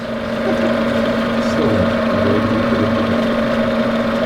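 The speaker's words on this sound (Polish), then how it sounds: "To jest napędzający ją silnik." An electric motor of about 700 W drives the high-ratio worm gear of a grain conveyor in a flat storage granary, giving a steady, close hum with a constant mechanical drone and no change in pitch.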